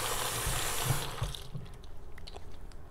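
Water streams steadily from a kitchen faucet into a sink while pumpkin seeds are washed, a loud hissing gush that cuts off after about a second, leaving quieter drips and splashes.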